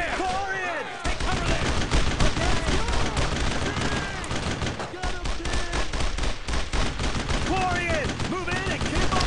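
Heavy World War II gunfire in Brothers in Arms: Road to Hill 30, rapid bursts of rifle and machine-gun shots cracking over one another nonstop, loud and close, with shouted voices and whistling tones mixed in.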